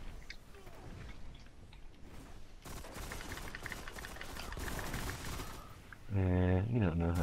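Gunfire in a competitive shooter match, a steady crackle of rapid shots and impacts at moderate level, ending in a loud tonal game sound, with players talking faintly underneath.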